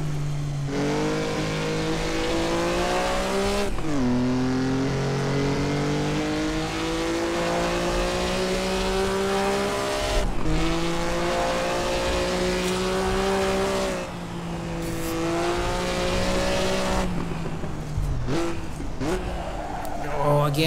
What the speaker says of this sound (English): Again, locking up the rear wheels with the engine braking, engine compression.